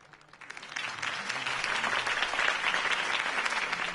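A crowd at a political campaign speech bursts into applause, swelling quickly from quiet into a dense, steady wash of clapping that holds to the end.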